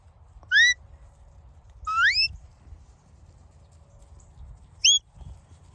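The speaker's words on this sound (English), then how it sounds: "then when he starts walking in, I'm going to give Roy a whistle, and Ty's going to automatically stop" Shrill rising herding whistles directed at border collies working goats: two quick rising notes, a longer double-tone whistle, then a brief short one, clear and fairly close over a low rumbling background.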